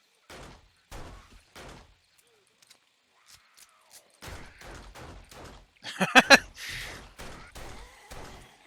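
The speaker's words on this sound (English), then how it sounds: "I am a terrible aim with this pistol" Pistol shots in the zombie survival game 7 Days to Die, a tight cluster of sharp cracks in quick succession between stretches of someone talking.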